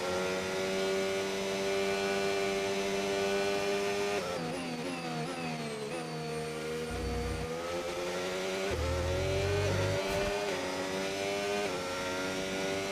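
A McLaren Formula 1 car engine in the F1 25 racing game whines at high revs with strong harmonic tones, the pitch rising and dropping through gear changes in one steady, continuous run.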